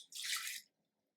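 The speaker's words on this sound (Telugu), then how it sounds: "ఇప్పుడు వాటర్ పోస్తున్నా, ఈ గ్లాస్ వాటర్ పోస్తున్నా" A glass of water poured into a dish of rice for pulihora, a single short hissing splash lasting about half a second, near and fairly soft, then quiet.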